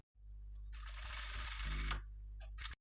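A sewing machine stitches sleeve fabric in a single continuous run of about a second, a close, steady whirring chatter over a low motor hum, followed by a few brief mechanical clicks.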